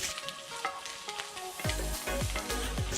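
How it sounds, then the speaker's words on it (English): Diced potatoes fry in an oiled pan, a steady close sizzle broken by repeated scraping strokes of a stirring utensil against the pan, growing louder in the second half. "I add some oil into the pan and keep stirring the potatoes until they are nice and crispy."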